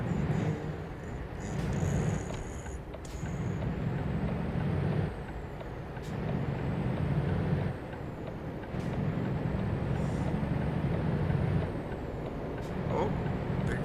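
Truck air brakes hiss several times at intervals over the steady rumble of a lorry engine while driving through Italy in Euro Truck Simulator 2.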